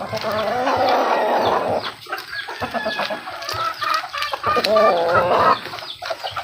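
Several chickens cluck and squawk close by, a busy overlapping chorus of short calls with brief pauses.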